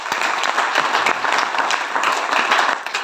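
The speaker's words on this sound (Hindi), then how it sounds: "जोरदार सभी के लिए ताली हो जाए" A crowd at a team training meeting applauds, a loud continuous burst of many clapping hands with a few sharper individual claps standing out, no voices over it.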